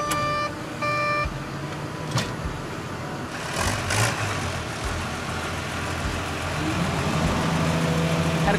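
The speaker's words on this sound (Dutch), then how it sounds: "er komt alweer een trekker erachter ons" A tractor engine grows louder as it approaches at a Dutch garden site, its mid-pitched chugging rising toward the end after a few electronic beeps at the start.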